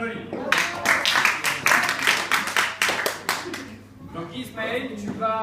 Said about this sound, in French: Ok, Ismaël, on l'applaudit.